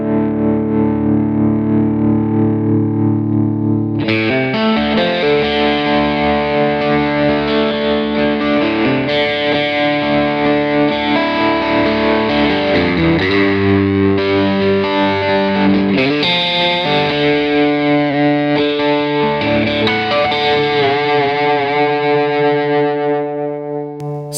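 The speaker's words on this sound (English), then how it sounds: "then you have this nice undulating tremolo" Electric guitar played through a Bad Cat Jet Black amp with an undulating tremolo effect, loud sustained chords pulsing in a steady wavering rhythm, heavy and saturated, with no voices.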